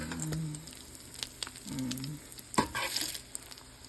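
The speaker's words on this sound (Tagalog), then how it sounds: "So, pritong itlog na lang." Eggs fry in a pan with a soft crackling sizzle, punctuated by a few brief scraping stirs and louder spatter bursts, close up and fairly quiet, with no voices.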